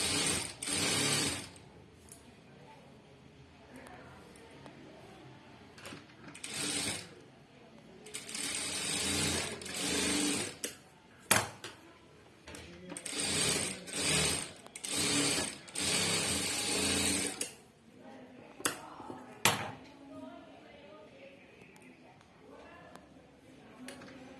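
A domestic sewing machine stitches a blouse in bursts, each run a few seconds long, separated by pauses. Someone talks between and over the runs.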